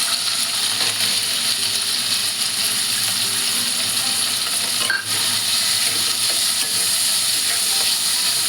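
Onion fries in a pan for a Konkani-style chicken liver masala, a loud dense sizzle holding steady throughout with faint stirring clicks, close and uninterrupted apart from one brief dip.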